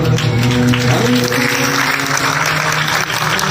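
An audience at a Shrimad Bhagwat Katha religious discourse claps steadily and loudly for several seconds, the applause sitting over sustained musical tones.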